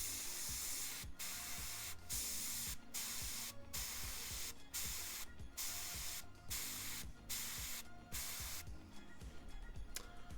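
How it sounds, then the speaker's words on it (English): Spray paint hissing onto a Kingdom Death miniature in rapid short bursts, about a dozen sharp blasts separated by brief pauses, close and loud with no talking. "apparently I'm spraying on this one as well, so I cannot aim very well."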